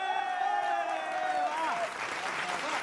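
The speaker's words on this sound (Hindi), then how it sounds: "जो पसंद आए उस पे जोर से ताली बजानी है" A studio audience at a live Hindi comedy poetry show applauds, sustained dense clapping from a crowd with a voice speaking over it.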